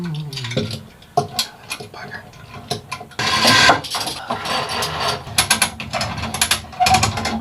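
Come-along ratchet winch pulling on a wooden boat's engine during a refit, giving bursts of metallic ratcheting clicks and clanks that come in irregular runs, close up and fairly loud.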